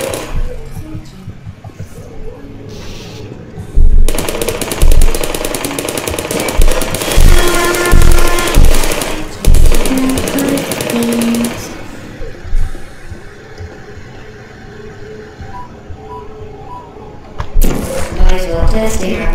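Turrets firing in the video game Portal, loud rapid bursts of automatic fire with gaps between volleys over a busy game soundscape.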